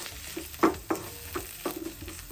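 Green onions and ginger sautéing in a pan for vegan curry chicken, a low sizzle broken by several clanking stirs of a utensil against the pan at an uneven pace.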